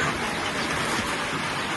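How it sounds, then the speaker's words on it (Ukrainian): Rain falling outdoors on a rural homestead as a dense, even hiss that fills the short stretch, fairly loud and without any talk. "ну сьогодні пішов дощ"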